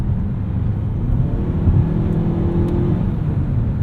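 Engine of a 2019 Mazda CX-5 Signature turbo accelerating, heard as a steady low droning hum with a faint rising whine, moderately loud and continuous, no voices over it.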